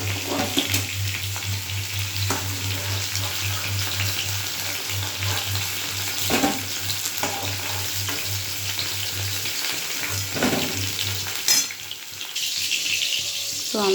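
Pieces of pointed gourd (potol) frying in a pan of oil, a dense continuous sizzle and crackle throughout with occasional clicks of stirring, close and fairly loud, no talking.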